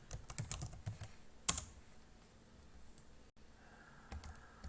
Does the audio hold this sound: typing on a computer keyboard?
yes